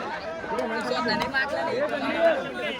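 A crowd gathered at a bullock cart race chatters in a steady, dense babble of many overlapping voices, moderately loud and unbroken from start to finish.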